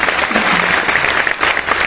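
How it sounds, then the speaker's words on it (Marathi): Loud, dense applause fills a hall at a student event, with steady clapping from a large audience rolling on without a break. "सर्व पदाधिकारी यांच्यासाठी जोरदार टाळ्या होत्या"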